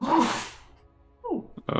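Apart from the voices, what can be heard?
person sneezing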